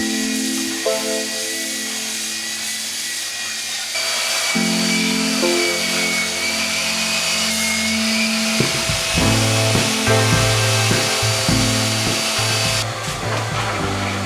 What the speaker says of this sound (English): Then I sand the housing.